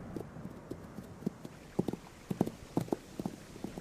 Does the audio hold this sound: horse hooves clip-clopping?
yes